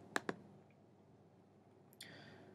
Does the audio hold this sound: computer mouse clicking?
yes